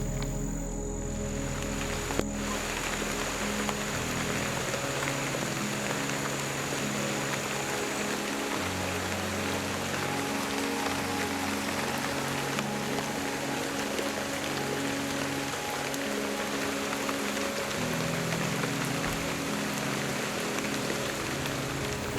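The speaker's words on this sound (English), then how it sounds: "Because almost every single day, it would rain." Steady, dense patter of rain falling on a surface, continuous and fairly even throughout, with no voices.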